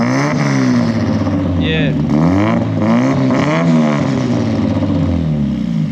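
Nissan S15 with a loud modified exhaust, its engine held at a deep, rough, lumpy idle and rising and falling in revs, very loud and close throughout, while people talk over it.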